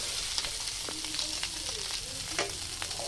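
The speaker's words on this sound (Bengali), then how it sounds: "আমি এদিকে সোয়ারের তেলে সোয়ার বাজতেছি" Pork frying in its own rendered fat, a dense crackling sizzle with light stirring clicks and scrapes throughout, close and steady, nobody speaking.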